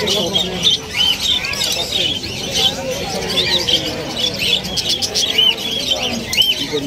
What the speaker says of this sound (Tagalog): Ganda ng mga ibon, no?